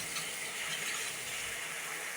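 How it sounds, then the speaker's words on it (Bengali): Spices frying in hot oil for a fish and vegetable curry, with only turmeric and green chilies, give a steady, close hiss and sizzle that holds evenly throughout with no talking. "আর এখন ভালো করে মশলা কষিয়ে নেব।"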